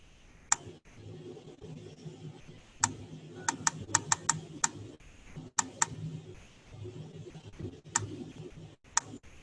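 Someone types a command on a computer keyboard, with sharp, scattered keystrokes in short irregular bursts over a low room hum.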